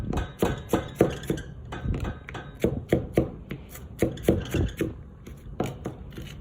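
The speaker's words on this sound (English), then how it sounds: "until you've chopped up the entire onion" A knife chops through an onion on a cutting board in rapid, uneven bursts of sharp close taps, pausing briefly now and then with no voices.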